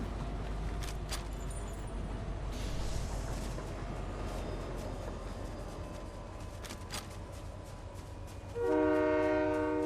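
Low rumbling train noise from the video game Fortnite runs throughout, with a brighter horn-like tone rising near the end; no talking.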